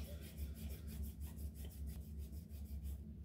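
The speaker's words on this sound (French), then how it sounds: "et je frotte." Palms rubbing against the skin in a qigong facial self-massage, a steady soft swishing friction repeated in quick strokes, close and continuous with no talking.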